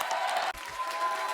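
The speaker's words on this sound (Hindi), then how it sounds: "जोरदार तालियां हाडी के लिए।" A studio audience applauds steadily, a dense wash of clapping welcoming rockstar Hardy Sandhu onto a comedy show stage.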